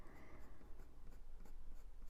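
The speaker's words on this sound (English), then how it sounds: "I'm taking the pencil up and under the whiter area or lighter colour" Pencil shading on paper while drawing a blue tit, soft rhythmic scratchy strokes repeating roughly every quarter second, close and quiet with no talk.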